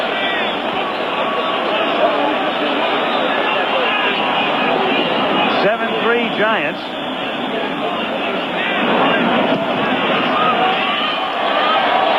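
Stadium crowd at a 1987 Monday night NFL game between the 49ers and Giants in New York, a loud continuous roar of fans filling the air while a broadcaster speaks over it.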